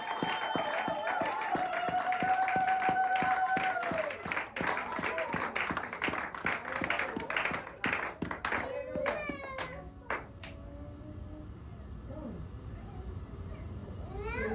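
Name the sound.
congregation applauding at a church service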